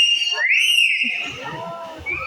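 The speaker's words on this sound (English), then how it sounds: "The last one is a whistle." A trained parrot at a safari park bird show whistles, producing a clear, loud rising-and-falling whistle, followed by softer sliding tones over crowd and background noise.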